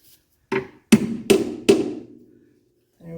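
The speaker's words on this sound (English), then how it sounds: "give it a couple of taps with a hammer" Hammer tapping out a suspension part on a 1982 Mercedes 300D, four sharp metallic strikes in quick succession with ringing decay, close and loud.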